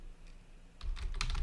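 After a short quiet pause, a quick flurry of keystrokes on a stand-in computer keyboard starts up, close and moderately loud, with no voices.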